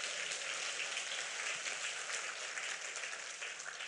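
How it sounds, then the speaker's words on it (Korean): A church congregation at a Friday worship service applauds continuously, a soft, even wash of clapping that sounds somewhat distant and carries on without a break. "믿음을 가진 분만 우리 하나님께 박수로 영광 돌리겠습니다"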